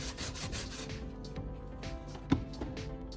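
Quick rhythmic scraping strokes of sandpaper rubbing repaired plastic up close, fast at first then slowing, with a sharp tap midway.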